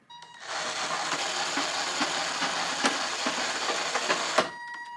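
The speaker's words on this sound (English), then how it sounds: "I put a motor on it." A small electric motor drives the elevator of a homemade nine-story Lego City hospital, giving off a steady, close mechanical whir with faint rhythmic ticking. It runs for about four seconds, then stops abruptly.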